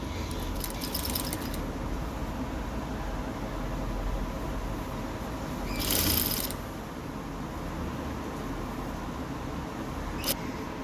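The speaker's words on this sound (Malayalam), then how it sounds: "ഇത് നമുക്ക് വീടെ പോയിന്റിൽ നിന്ന് ആദ്യം ഇങ്ങോട്ട് തയ്ച്ച് വെക്കാം" Sewing machine stitching a V-neck on a nightie, a steady continuous mechanical whir running throughout with a brief louder burst partway through and a small click near the end.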